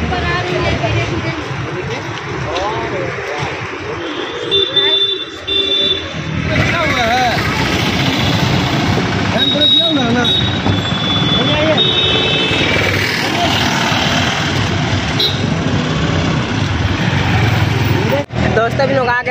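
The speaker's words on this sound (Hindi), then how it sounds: "गाड़ी अब रोड पर आ रही है धीरे धीरे" A new car slowly pulling out onto the road, its engine rumbling low under a constant wash of traffic and outdoor noise, with people talking nearby throughout.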